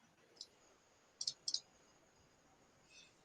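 Three sharp computer mouse clicks, one isolated and then a quick pair, ring out in a quiet room during Windows Group Policy settings work, with a faint softer click near the end.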